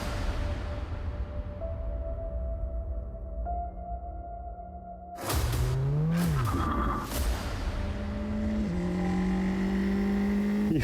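Formula 4 single-seater race car at Le Mans: a steady close engine drone, then a loud surge about halfway with rising and falling revs and gear changes that carries on to the end, with no talk.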